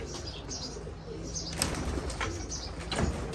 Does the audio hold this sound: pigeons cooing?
yes